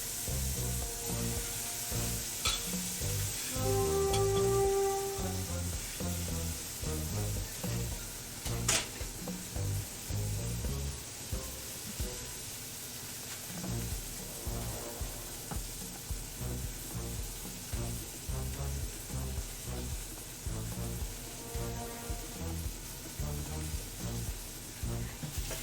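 Marinated meat sizzles and fries in a pan, a steady loud crackle that continues throughout with occasional stirring and scraping noises.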